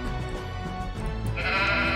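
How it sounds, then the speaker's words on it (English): Game-style sheep bleats from WarCraft II sound over a busy background of music and effects, one bleat rising clearly near the end. "Hey, sheep."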